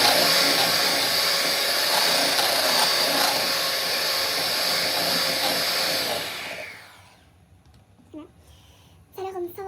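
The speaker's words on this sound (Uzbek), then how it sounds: "yana yaxshilab mikser qilib olamiz" An electric hand mixer whirs steadily while beating batter for small homemade cupcakes, a loud continuous buzz that cuts off after about six seconds, leaving a quiet kitchen with faint clinks and handling sounds.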